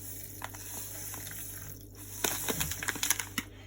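Water being stirred and mixed with salt in a container, a run of small clinks, taps and swirling splashes close by, getting busier and louder in the second half.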